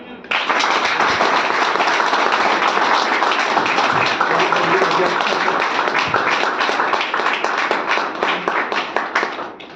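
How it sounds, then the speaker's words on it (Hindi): Audience applause at a motivational speech event, a dense sustained burst of many hands clapping, loud and continuous for nearly ten seconds. "जोरदार तालियां।"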